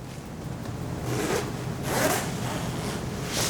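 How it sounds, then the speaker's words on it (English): A two-way zipper on a jacket is pulled up in a few short, raspy strokes, close and moderately loud against quiet room tone. "so you can zip it up"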